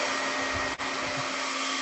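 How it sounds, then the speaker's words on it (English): An 1800-watt hair blow dryer runs steadily with a loud, even broadband roar and a constant motor hum, broken by one brief dip just before the midpoint. "we're going to put the blow dryer in"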